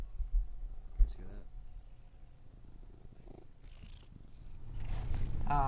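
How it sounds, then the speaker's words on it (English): A cat purring loudly close to a microphone, a low rumbling drone running through the clip with some background sounds and voices. "Can you put the microphone up to him? You guys hear his loud ass purr?"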